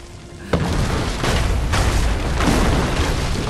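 Cannon fire rumbles through a Battle of Bunker Hill scene in Assassin's Creed III, a sharp boom opening a continuous dense roar of blasts and battle noise that stays loud throughout.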